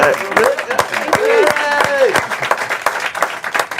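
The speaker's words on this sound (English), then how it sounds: "let's give them a round of applause real quick" A live podcast audience claps for guests Rolf and Dominique Kipr, a dense burst of applause that runs close and loud throughout, with a voice or two calling out over the clapping.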